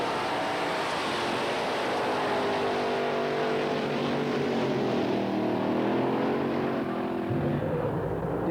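A 1967 all-steel-body Camaro drag car powered by a 427 Chevrolet engine, heard as a sustained, loud engine roar rising and shifting in pitch across several seconds, with no talk.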